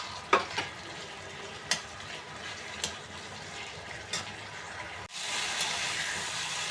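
Tomatoes cook in a frying pan with a steady, soft sizzle, broken by several sharp clinks of a utensil against the pan, and the sizzle swells louder after a stir near the end.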